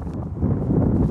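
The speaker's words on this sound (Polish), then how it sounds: "O, teraz powinno wiać." Wind buffeting a wireless microphone outdoors during a noise-reduction test, a low rumbling roar that swells and grows louder after a brief quieter start, with no voices.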